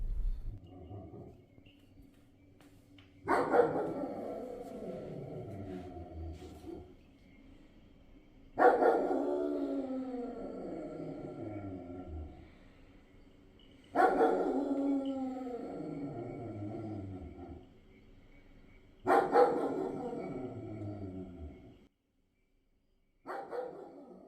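A dog barks at night around 12:30 in Kotagiri, four drawn-out, echoing bursts spaced roughly five seconds apart, fairly distant and reverberant against quiet surroundings.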